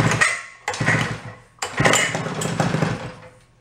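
A small 49cc fold-up suitcase scooter engine, about 40 years old, sputters to life in three bursts, cutting out twice before catching and running with a rough, buzzing idle close by.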